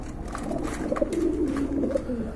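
Large pigeons at a bird market coo close by in a low, rolling, repeated murmur, with soft overlapping calls and rustling in the background.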